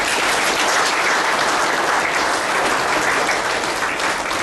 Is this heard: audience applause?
yes